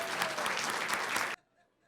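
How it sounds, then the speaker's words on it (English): Brief burst of audience applause for student, parent and employee award recipients at a school board meeting, loud and dense, then cutting off abruptly into near silence. "Let's give everyone another round of applause."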